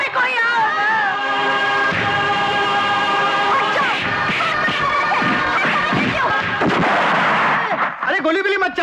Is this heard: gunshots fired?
yes